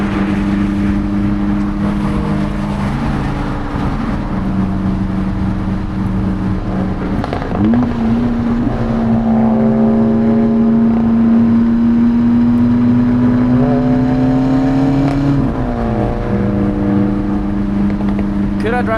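On a Swiss Alpine road, an Opel Speedster drones close by with a steady engine note that rises and holds as it accelerates, then settles back, amid continuous road noise and possible voices.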